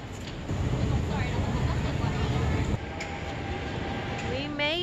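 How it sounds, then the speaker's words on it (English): A train arriving at Disneyland Paris, its loud rumbling rolling noise near and continuous, dropping after a few seconds into a quieter hum with a faint whistling squeal at the end, with voices mixed in. "on off the train for Disneyland Paris"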